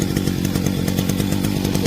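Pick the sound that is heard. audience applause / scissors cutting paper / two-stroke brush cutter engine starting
two-stroke brush cutter engine starting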